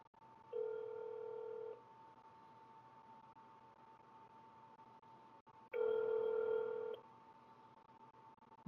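Outgoing call ringing on a phone line: two even, buzzing ring tones of just over a second each, spaced several seconds apart against low steady line noise.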